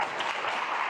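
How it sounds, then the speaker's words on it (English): An audience at an international ESL conference applauds, with dense, steady clapping filling the whole short moment without a break. "I need you guys to applaud Afar."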